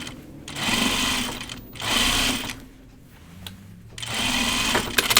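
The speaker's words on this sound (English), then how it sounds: "I'm going to go back and stitch that" Sewing machine stitching a seam on pajama bottoms, three bursts of steady whirring stitching separated by short pauses, close and clear with light handling noise.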